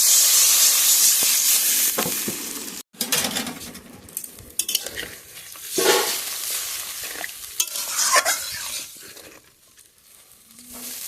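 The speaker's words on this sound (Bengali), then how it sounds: "মশলাটা আমার খুব ভালো করে কষানো হয়ে গেছে, এবার পরিমাণ মতো জল দিয়ে দেবো" Water splashes into well-fried spice masala in a hot pan, setting off a loud burst of sizzling and steam that fades over a few seconds, followed by scattered clinks and scrapes of stirring.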